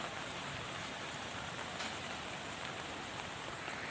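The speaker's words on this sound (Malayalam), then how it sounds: "എറണാകുളം ജില്ലയെപ്പറ്റി പറയുകയാണെങ്കിൽ 2-3 ദിവസങ്ങളായി അതിശക്തമായ മഴയാണ്." Heavy monsoon rain pours down steadily in Ernakulam, a dense, even hiss of water falling on surfaces with no break and no voices.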